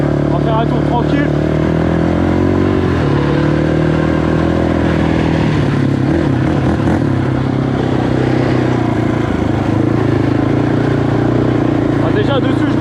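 Quad bike engine running while riding, a loud, continuous motor rumble with steady pitch and slight rises as it pulls away, close to the rider throughout, with talk over it.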